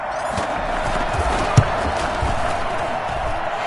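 A stadium crowd at a Colts at Chiefs football game keeps up a broad, loud roar after a big play. One sharp thump cuts through the middle of the wash of noise.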